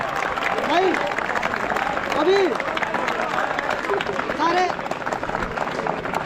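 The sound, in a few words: audience applause at a Republic Day celebration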